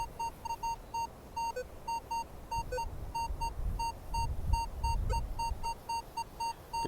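A Minelab Vanquish 540 metal detector sweeps over ground and sounds a string of evenly spaced high-pitched beeps, repeating steadily over low rustling and scraping of the search coil.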